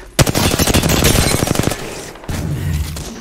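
Rapid automatic gunfire from an Apex Legends match rattles loudly in a dense burst, then cuts off into a lower rumbling tail.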